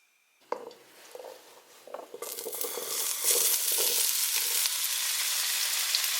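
Potatoes frying in a pan on a stovetop at medium heat, starting with a few scattered crackles and building into a steady, loud sizzle that continues alone with no voices.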